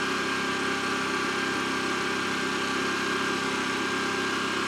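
A Genmax 10500 XIT portable open-frame generator engine runs steadily on high idle, heard from a short distance as a continuous, even drone with no break.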